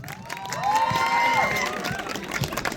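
Audience applause and cheering at a family fete, with clapping mixed with shouts and whoops from a lively crowd, steady and close, while a voice calls out above the noise.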